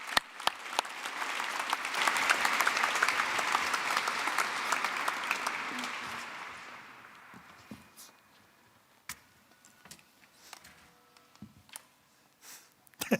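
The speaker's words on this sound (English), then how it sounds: "A warm applause." An audience at a SingularityU Netherlands event applauds to welcome Tilly Lockey on stage. The clapping is loud and dense for about seven seconds, then thins into scattered claps and fades.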